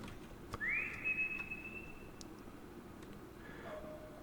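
In the video game Lost In Vivo, the player character gives a single sustained whistle with a brief rising start, faint over a quiet, dark ambient background, followed by a softer distant tone.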